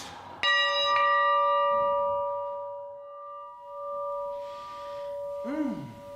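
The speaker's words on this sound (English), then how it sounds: "the sound of that bell, that is the sound of judgment" A single church bell strikes, its bright ringing tone sustaining and slowly decaying, with a faint murmur of voices underneath.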